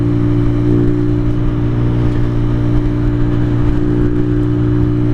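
A 2023 Venom SS3 KP mini 150 motorbike cruises at highway speed, its small engine holding a steady, droning whine with strong low harmonics and constant wind rush, loud and close with no break.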